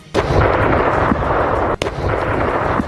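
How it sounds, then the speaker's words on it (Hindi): A loud, sustained roar of heavy blasts from a Russian missile strike on Ukrainian military sites rumbles throughout, with a sharp crack near the end briefly cutting through the continuous booming. "जिसमें उसकी मिसाइल हवा को चीरती हुई यूक्रेन के सैन्य ठिकानों पर जा गिरी, जिससे जोरदार धमाका हुआ"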